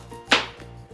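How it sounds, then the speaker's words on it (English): A knife cuts through the end of a parsnip with one crisp chop onto a cutting board, close and distinct against a faint background hum. "We're gonna chop the ends off of your parsnip."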